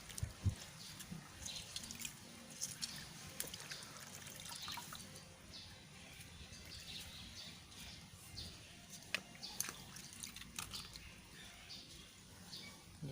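Water is poured and stirred into a batch of plump kaffir lime seeds, giving a steady wet trickling and sloshing with small splashes and drips. It sounds close, continuous and moderately loud, with faint birdsong or outdoor ambience behind it.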